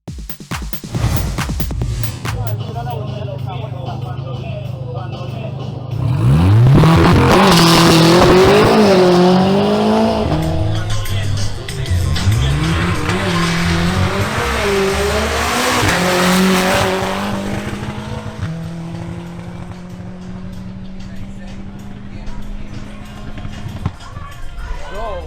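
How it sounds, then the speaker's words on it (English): A Volkswagen Golf GTI makes a drag race pass, its engine climbing loudly through rising revs with repeated gear-change dips, then fading as it pulls away, with a voice faintly present. "Then, Nicolas Gomez makes a pass in his Volkswagen Golf GTI."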